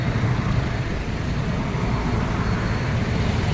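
A busy city road roars with steady traffic: cars and buses pass in a continuous, dense wash of engine and tyre noise, loud and unbroken.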